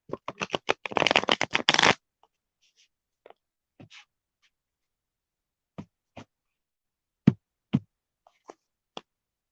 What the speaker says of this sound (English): Two more shuffles, and then we're gonna side shuffle and see what you get.